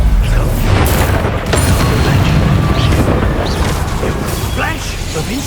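A Confringo fire spell explosion in Hogwarts Legacy booms loudly amid dense, continuous combat noise, with rumbling bursts and crackling layered over talk throughout.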